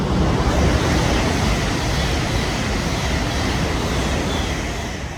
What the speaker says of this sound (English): Excuse the train.